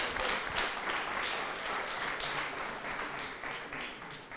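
A church congregation applauds together, steady broadband clapping that holds for several seconds and fades slightly at the end, with no speech over it.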